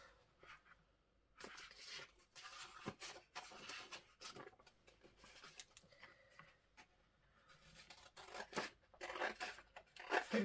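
Scissors snipping paper for a sea-themed envelope stack, a series of faint, close, irregular cuts and paper rustles with quiet handling noise, the snips growing busier toward the end.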